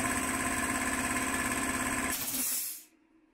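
A motor runs steadily under load on an Isolar SML II 5.5 kW 48 V inverter, giving a loud, constant electrical hum with hiss. It shuts down near the end, leaving only quiet background.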